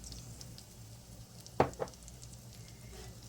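Flour hits hot grease and oil in a pan for gravy with a soft, steady sizzle, broken by a couple of sharp knocks from a utensil partway through.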